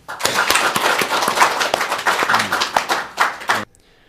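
An audience at a religious gathering claps together in a dense burst of applause lasting several seconds, then stops abruptly into near silence.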